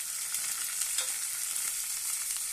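Chopped onions and cumin seeds sizzle steadily in hot oil in a pan, a dense continuous hiss with light stirring scrapes, close and alone with no talking.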